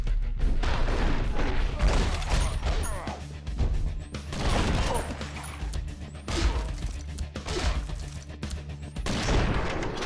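Shotgun blasts in the top-down action game Mr. Shifty, loud repeated booms and crashes packed densely over dense game noise, with bursts recurring every second or two and no gaps of quiet.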